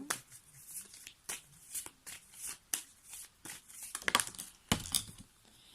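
Tarot cards are handled during a reading, with repeated soft shuffles, slaps and crinkly riffles in irregular bursts close up at low volume, and no talk.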